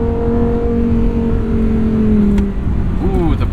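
A 2022 Lamborghini Huracan engine drones loudly at steady revs, its pitch sagging as it eases off and then briefly rising again, heard from inside the car with a voice speaking over it.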